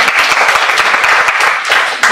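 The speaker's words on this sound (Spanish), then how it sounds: "Eso es un aplauso." A conference audience claps loudly and steadily in a short, dense burst of applause with rhythmic hand claps audible within it.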